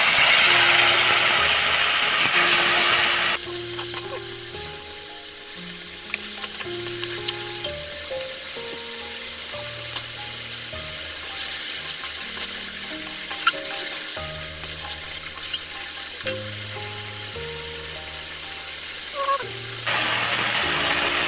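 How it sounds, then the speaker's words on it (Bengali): Turmeric and coriander powder sizzle in a pan with a splash of water. Loud hissing opens and closes the passage, and a steady fry with scraping stirs runs under melodic background music in between. "এখন আমরা অল্প জল দিয়ে দিমু মশলাটা সাতলানোর লাগিয়া"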